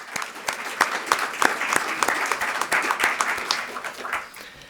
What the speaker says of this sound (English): Please give yourselves another round of applause.